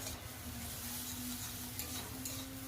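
Beetroot pieces frying in a pan with carrot and potato for a vegetable chop, a continuous dense hissing sizzle with light stirring, close and steady throughout.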